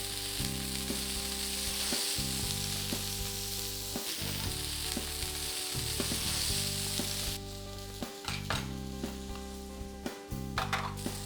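Turkey burgers cook in olive oil, giving off a loud, dense, continuous sizzle up close, broken by a few brief dips and some soft scrapes and taps as the patties are tended.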